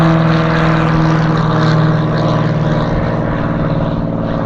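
A Cirrus SR22 GTS single-engine airplane makes a short takeoff, its propeller engine a loud, steady drone that holds continuously and close throughout, with no speech.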